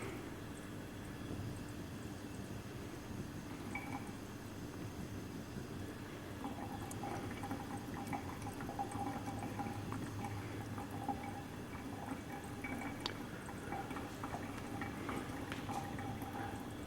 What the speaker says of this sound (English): you may be able to detect some slight bubbling in the flask there